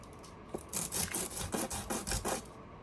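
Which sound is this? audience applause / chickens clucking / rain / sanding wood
sanding wood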